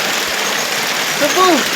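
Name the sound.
waterfall pouring into a natural pool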